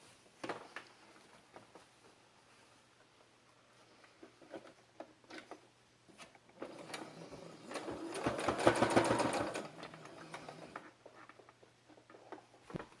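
A sewing machine stitches piping onto the bodice of a white baby frock, running in short bursts at first, then building to a longer, louder run of fast stitching before easing off again.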